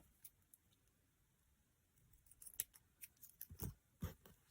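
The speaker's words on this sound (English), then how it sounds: "I'm going to cut a bit more off this because it's just a little bit too long." Small scissors snip ribbon for a handmade card, a few quiet cuts early and then a quicker run of sharp crisp snips, close and alone.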